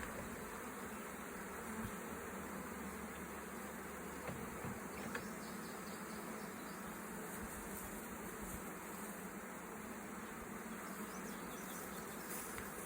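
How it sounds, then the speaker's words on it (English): Honeybees buzz around a beehive beside a barn, a faint, steady droning hum with occasional louder passes of single bees close by, and no talking. "That drone got up in my face and was just buzzing away."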